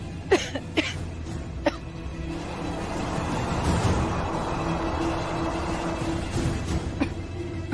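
A few short, sharp coughs break out at intervals over a murmuring background, with a muffled rumble building in the middle.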